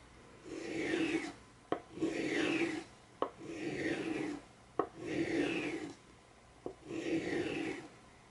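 A metal pricking iron for leather stitching rubbed flat on the rough side of a polishing surface, producing five steady rasping strokes in an even back-and-forth rhythm, each ending with a brief sharp tap, close and clear.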